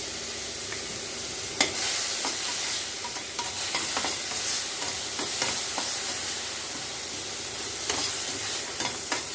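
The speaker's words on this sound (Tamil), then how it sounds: "தக்காளியை நல்லா வதங்கி வரட்டோங்க" Squeezed tomatoes sauté in a pan with asafoetida, dried red chillies and green chillies, giving a continuous dense sizzle with scattered spoon clinks and scrapes throughout, close and steady, with no voices.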